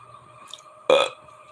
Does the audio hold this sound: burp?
yes